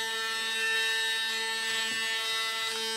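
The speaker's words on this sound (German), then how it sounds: "Aber wenn ihr am Rasieren seid, dann ist das das ganz übliche Rasiergeräusch" A Panasonic ES-LT4N wet/dry electric shaver runs steadily with a loud, high, tonal buzz and whine, close and continuous with slight wavering as it moves.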